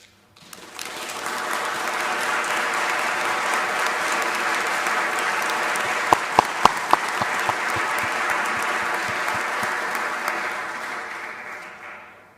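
A large audience applauds a speech by President Moon praising the Norwegian people: a long, full wash of clapping that swells in quickly and holds steady, with a few sharp, close claps standing out midway before it fades.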